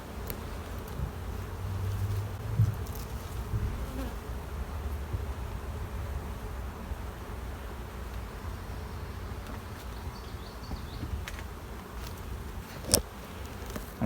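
A hive of honeybees holding a newly added queen drones in a steady, low, continuous hum, with a few louder buzzes as individual bees pass close by.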